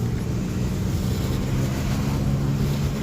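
Steady, close engine drone from a heavily boosted BMW E36, a constant low rumble with wind-like hiss over it and no changes in pitch.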